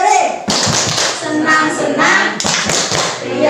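A group of teachers performs a rhythmic 'tepuk hore' clap chant, sharp close hand claps and taps in bursts mixed with chanted voices.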